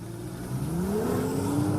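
A 2016 BMW M2's 3-litre straight-six engine revs up, its tone climbing steadily and swelling from moderate to louder over a short pull.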